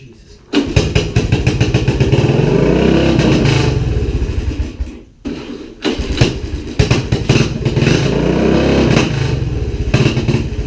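A loud, raspy Honda three-wheeler engine with an open header and a Chinese carburetor starts and runs unevenly, with popping revs and a brief cut near the middle before catching again, close by.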